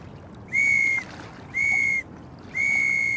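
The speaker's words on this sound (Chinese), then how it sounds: "有时候有些不方便说出口的话，我们也会用哨子去表达。" A whistle blown three times in even, sustained blasts of about half a second each, shrill and close, over a soft background hum.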